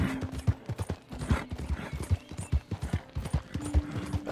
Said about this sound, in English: Damn, this horse can go fast, though.